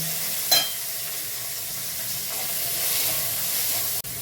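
Capsicum and tomato frying in a pan for navratan korma, a continuous close sizzle with a soft stirring scrape early on and a sharp clack near the end, no talk.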